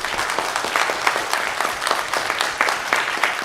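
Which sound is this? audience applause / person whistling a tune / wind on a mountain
audience applause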